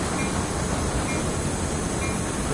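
Metro train running in the Train Sim World 2020 video game, a steady, loud, continuous rumble of rolling wheels and motors with no breaks and no talk.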